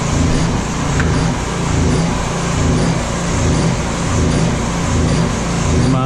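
A gas-powered Harbor Freight water pump engine runs with a loud, close, steady motor drone that holds constant throughout without a break.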